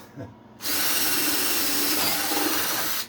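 A power drill starts abruptly after a brief pause and runs at a loud, steady whine, boring through wood.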